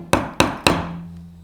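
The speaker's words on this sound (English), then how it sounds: "hammering the nail here" Three sharp, evenly spaced hammer blows drive a nail into a wooden nameplate, each strike loud and close with a short ringing decay, then a faint hum.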